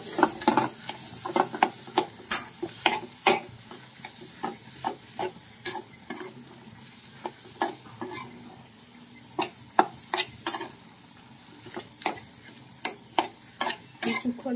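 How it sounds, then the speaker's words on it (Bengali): Mashed potatoes stirred and fried in a pan, a spatula scraping in steady irregular strokes with sharp clacks against the metal over a continuous soft sizzle, close and fairly loud, no talking. "এই পর্যায়ে আমি ম্যাশ করা আলুগুলাকে দিয়ে দিচ্ছি। দিয়ে এটাকে সুন্দর করে নাড়াচাড়া করব।"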